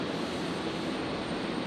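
Steady, loud aircraft engine roar as a plane taxis at Brisbane Airport, a continuous broadband drone with no break and no voices.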